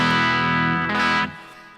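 Electric guitar played through a Quilter amp with gain near noon and master turned up, giving an edge-of-breakup tone: a sustained, lightly driven chord rings loud and full, then cuts off abruptly near the end.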